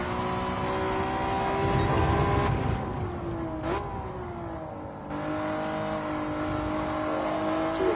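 A Honda NSX race car in Gran Turismo 7 at Interlagos drones and revs loudly, its engine note sliding down and climbing again through a corner over several seconds, with no voices.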